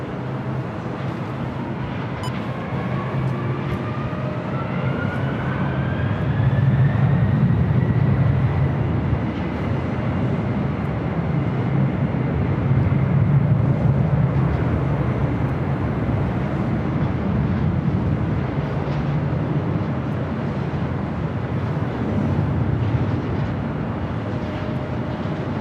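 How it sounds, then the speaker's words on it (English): A Delta Boeing 767 airliner at Los Angeles International Airport, its steady jet engine roar carrying across the field with a slowly shifting whine, sustained and moderately distant. "Delta 767"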